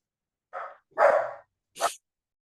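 Dog barking indoors, three short woofs, the middle one loudest and the last one sharp, near and clear against silence.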